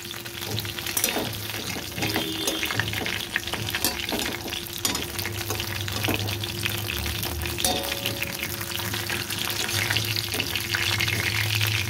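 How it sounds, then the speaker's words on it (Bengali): Fish pieces fry in a pan, giving a steady crackling sizzle over the whole stretch, with occasional stirring clinks and scrapes and no voices. "একটু কড়া করেই ভাজতে হবে এই মাছগুলো, একদম খুব কড়া না, কিন্তু একটু কড়া ভাজতে হবে"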